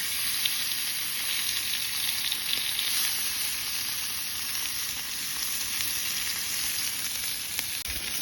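Meat sears in a hot pan outdoors at a snowy camp in East Tennessee with a constant crackling sizzle, close up and steady, with occasional sharper pops.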